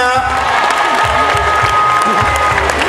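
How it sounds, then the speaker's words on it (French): Loud applause and some cheering from the audience at a Mini Reine du Sud 2011 pageant results announcement, dense clapping continuing throughout, with a voice faintly present underneath. "Luana, des applaudissements pour elle"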